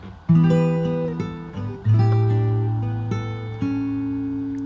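Fingerstyle acoustic guitar playing a bar of a song from Aladdin, plucked notes and chords ringing clearly with several shape changes and sustained bass tones, alone without talk.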